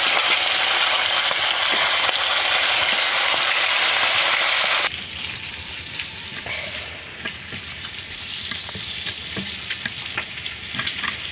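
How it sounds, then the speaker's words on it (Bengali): Rohu fish heads frying in hot oil in a village kitchen, a loud steady sizzle with scattered crackles and pops that drops to a softer, spitting fry partway through, with no talk. "এই মাছের মাথাগুলো আমি ভেজে নিচ্ছি"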